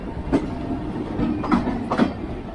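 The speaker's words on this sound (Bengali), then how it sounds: "দারুণ লাগে যখন একটি ট্রেনকে ক্রসিং করে, সুপার ডুপার।" A 22-coach passenger train, the Gonda Asansol Express, running past another train at a crossing in India, with a steady low rumble and a few soft rail clacks recurring through the passage, with no one talking.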